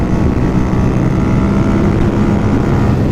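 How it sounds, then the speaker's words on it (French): A Masai Greystone 125 motorcycle engine runs at speed, a steady loud droning roar with wind noise and no break. "le son de cette moto c'est un truc de fou"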